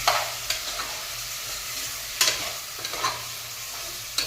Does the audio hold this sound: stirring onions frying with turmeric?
yes